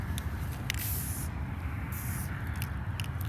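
A spray can with a badly clogged nozzle sputters out paint in uneven hissing bursts, broad spitting noise rising and falling over a steady low rumble, close by, with no talking.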